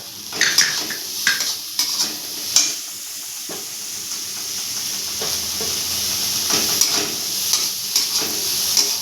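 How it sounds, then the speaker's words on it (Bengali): Chopped onion and garlic frying in a pan, a continuous hissing sizzle with intermittent clinks and scrapes of stirring, close up, no talk. "একটুখানি লাল লাল করে একটু ভাজা ভাজা করে নেবো"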